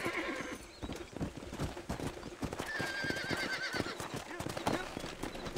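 A horse in the Red Dead Redemption video game clops along in a quick, steady hoof rhythm and gives a clear whinny partway through, all at a moderate level with no one talking.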